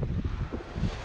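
Steady wind buffeting a Dufour 375 GL sailboat at sea, a continuous broadband rush with low gusty swells that rise and ease, fairly loud and close with no other sounds.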